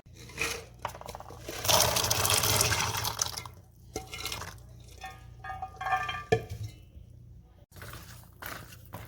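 Close-up kitchen sounds: a burst of sloshing and pouring as chickpeas drop into a bubbling roasted-coconut Kerala kadala curry gravy, followed by stirring, clinks and gentle simmering, no voices.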